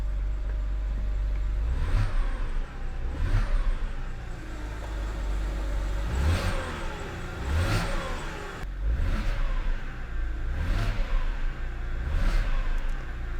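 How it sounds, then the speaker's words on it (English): A BMW straight-six engine, heard up close, is revved repeatedly, with about eight rising blips of throttle swelling over a steady idle and falling back between them. "That straight 6 is an incredibly good sounding engine."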